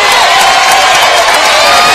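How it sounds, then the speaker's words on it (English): Basketball arena crowd at a college game between Coppin State and Morgan State, applauding and cheering loudly as a player fouls out, a dense steady roar of clapping and voices throughout. "You see the applause he's getting."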